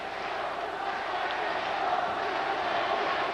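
Home crowd cheering steadily inside St. John Arena at the 2001 NCAA men's gymnastics championships, a dense continuous roar of many voices with no breaks.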